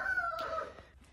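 Chickens in a barn coop give soft, faint clucks and a drawn-out vocal call in a quiet, slightly noisy room, with no talking.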